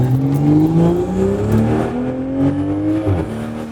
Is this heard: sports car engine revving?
yes